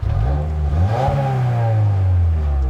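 Subaru WRX with stock exhaust revved once, engine note rising then sliding back down, loud and close with a deep rumbling tone.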